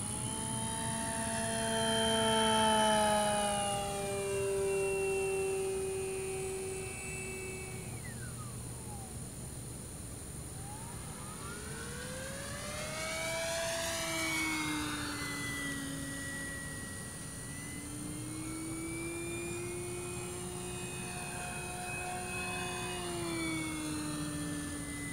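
E-Flite Sportix 1.1 m electric RC model airplane flying overhead, its motor whine rising and falling in pitch as it passes near and away, with clear Doppler sweeps and a steady background hum.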